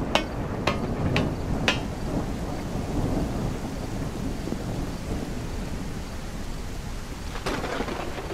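A thunderstorm in a video game: sharp cracks of thunder burst near the start and again near the end over a continuous heavy wash of rain, loud and close with no speech.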